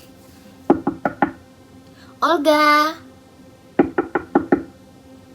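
Knocking on a bedroom door in two quick bursts of four or five raps each, close and sharp, separated by a voice calling out a name.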